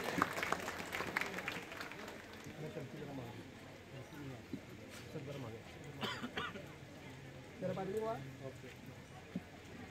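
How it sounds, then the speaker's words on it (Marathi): A gathering at a village panchayat building inauguration breaks into scattered applause at the start and again later, with speech and chatter around it. "टाळ्या वाजवून सर्वांनी या फलकानावरणाच्या कार्यक्रमाला प्रतिसाद द्यायचा आहे."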